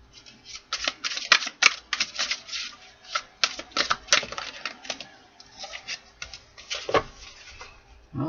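Tarot cards being shuffled by hand in a series of quick crisp riffles and flicks, close and fairly loud, coming in short bursts with brief pauses between them.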